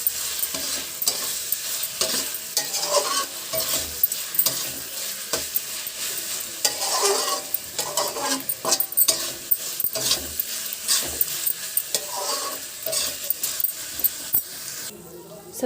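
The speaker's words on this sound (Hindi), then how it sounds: "अब इसको 2 मिनट हाई फ्लेम पे 2 मिनट इसको चलाते रहेंगे लगातार हाई फ्लेम पे" Cabbage curry being stirred continuously in a pan over a high flame, with steady scraping and spoon knocks in an irregular rhythm over a soft sizzle. The sound is close and moderately loud for about fifteen seconds, and no one speaks.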